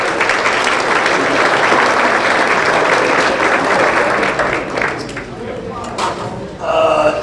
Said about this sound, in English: you can give a applause to the Holbrook Catering, please